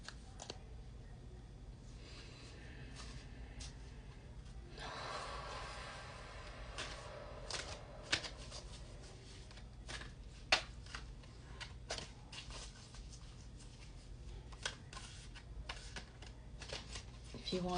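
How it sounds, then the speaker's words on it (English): A deck of cards being shuffled close by at low volume, with repeated soft riffles and flicks over a quiet room hum. "would you just like me to shuffle and see what we get?"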